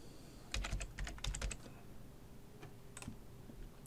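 Computer keyboard typing student names into a school class-management program: a quick burst of clicky keystrokes, then a pause and a few more taps, close and moderately loud in a quiet room.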